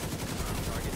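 Rapid gunfire in The Division 2 crackles in a fast automatic burst, fairly faint and brief, with a voice talking over it.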